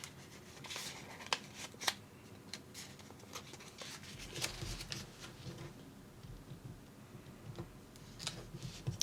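Soft crinkles and crisp taps of paper being creased and folded into an origami crane, quiet and close, with irregular bursts of rustling.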